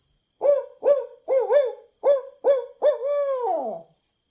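A person imitates a barred owl's hoot by voice: a close, clear series of about eight short, evenly spaced hoots, ending in one long, drawn-out call that falls in pitch, with no other sound.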